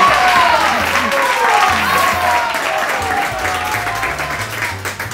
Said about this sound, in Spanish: Esto se merece un aplauso, por favor